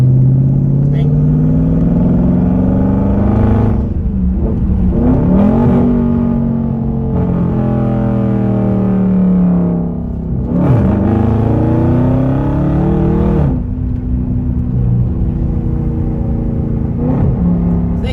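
A straight-piped Dodge Charger 392 Scat Pack with its mids deleted accelerates hard in second gear, the loud exhaust roar climbing in pitch through several rising pulls with brief dips at the shifts, close and continuous.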